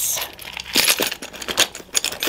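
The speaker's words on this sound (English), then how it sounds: "And my car keys." Car keys tumble into a small handbag, producing a few light metallic jingles and clinks with soft rustling of the bag's contents, close and brief.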